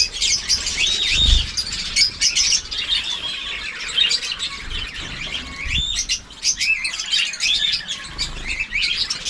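Many small caged birds chirp and tweet steadily close by, overlapping calls with a few squawks, and occasional low thumps beneath.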